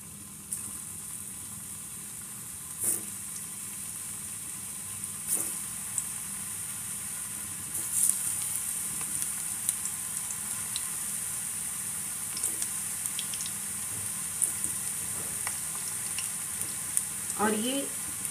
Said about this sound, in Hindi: ये तेल मेरा अब गर्म हो चुका है, और अब मैं ये जो मैंने ये बनाए थे कटहल के कोफ्ते, इसको मैं इसमें डाल देती हूँ